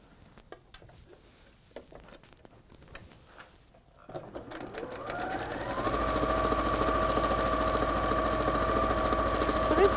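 Domestic sewing machine stitching patchwork squares for a wall hanging, starting after some quiet handling and speech, then running steadily with a close, continuous whirring hum that builds and holds to the end.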